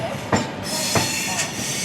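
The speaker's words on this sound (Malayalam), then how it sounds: "ക്രോൾ ചെയ്ത് ഹസ്രത്ത് നിസാമുദ്ദീൻ സ്റ്റേഷനിലോട്ട് കയറുകയാണ്" An Indian Sampark Kranti express train rolls slowly into Hazrat Nizamuddin station toward platform 5, heard from on board as a loud, steady rumble with a few sharp wheel clacks at irregular intervals.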